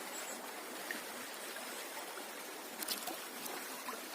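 A river's current flows steadily during a rafting trip on a calm, windless day, a soft continuous wash of water with faint trickles and splashes, no voices.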